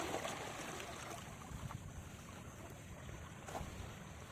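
Seawater surges and washes against rocks on a beach, a faint, steady broadband wash with no voices.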